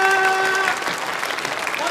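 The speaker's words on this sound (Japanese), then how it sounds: "せーの、拍手。" Audience clapping in unison at a stage show at Nintendo World, a short burst of applause after a held tone, moderately loud.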